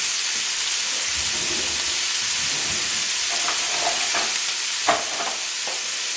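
Vegetables stir-fry in a wok with hot rapeseed oil, giving a loud, steady hiss and sizzle throughout, with a few light utensil clinks and one sharper knock near the end. No one speaks.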